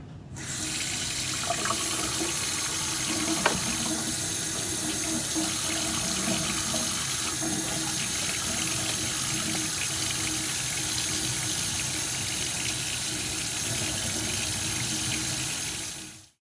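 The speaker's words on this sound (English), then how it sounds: "So I would wash my hands before getting on PPE." Hands are washed under a running tap before putting on PPE, the water streaming steadily and close for the whole stretch, with a brief clink partway through and no talk.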